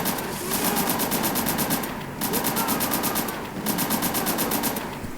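Sustained machine gun fire in Call of Duty: World at War, long bursts of rapid, evenly spaced shots broken by two brief pauses, loud and close with no clear speech.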